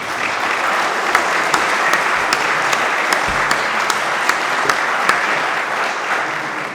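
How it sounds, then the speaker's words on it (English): Steady audience applause at a city council district candidate forum, many hands clapping in an even, sustained wash with a few sharper individual claps standing out. "I would like to ask you to give them a round of applause"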